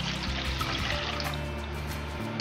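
Half a liter of water pours steadily into a pot for ramen sauce with a soft, continuous splashing trickle, its pitch gradually shifting as the pot fills.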